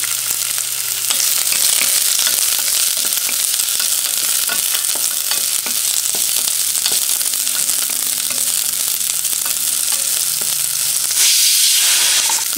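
Garlic sizzles and fries loudly in a hot pan for heerekayi saaru, with a continuous crackling hiss and occasional stirring scrapes, steady throughout and briefly cutting out near the end.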